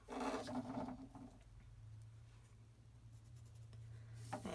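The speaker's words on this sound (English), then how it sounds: "And I make one mark on the bottom of my paper and one at the top." A pencil scratches short tick marks on paper while quilt squares are measured, with a few quick, quiet strokes near the start and again at the end and a low hum in between.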